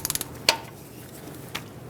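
Ratchet snugging up the bolts on a 2008-2010 Ford F-250 Super Duty front hub: a quick run of faint clicks, then a sharper metallic clack and a later soft click, quiet and close with no talk.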